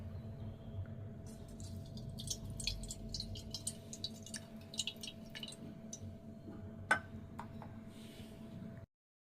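Water trickling and dripping over a Shiva idol during a home shrine bath, a run of soft irregular drips and splashes over a steady low hum, with one sharper drop near the end.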